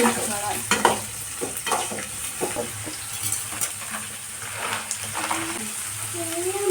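Onions and mixed vegetables frying in a pan after peanuts, a steady close sizzle broken by repeated scraping stirs of a utensil against the pan, with brief faint voice fragments.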